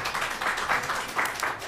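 Brief applause at a city council meeting, a quiet, distant wash of clapping with slight swells, lasting under two seconds.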